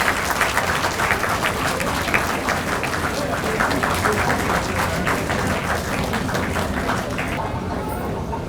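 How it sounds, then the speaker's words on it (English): Audience applause at the inaugural ceremony of an international conference, a dense, steady wash of clapping from a large crowd lasting several seconds before starting to fade at the end. "Please clap loudly, it's a good exercise."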